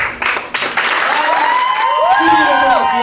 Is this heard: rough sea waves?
no